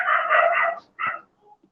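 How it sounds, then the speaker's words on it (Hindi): A dog barks in the background behind an indoor lecture setting: one drawn-out bark, then a shorter yelp and a faint yip trailing off. "शायद आपको कुत्ते की आवाज आ रही होगी पीछे से"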